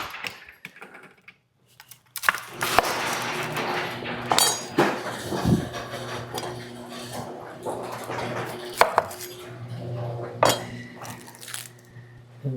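Onions being chopped on a board in a home kitchen, a series of uneven knife knocks with some clattering of pans and utensils, close and moderately loud, with faint talk in places.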